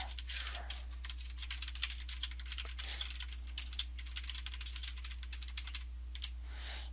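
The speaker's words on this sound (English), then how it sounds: "So I'll just type that in." Someone types steadily on a computer keyboard while filling out a support ticket: a close, continuous patter of quick key clicks over a low electrical hum, with no talk.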